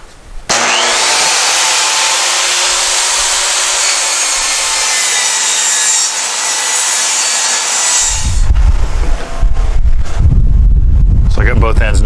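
A power saw cuts notches into a wooden board for a rotted garage rebuild, a loud sustained whine for about eight seconds, then rougher bursts of cutting and handling noise.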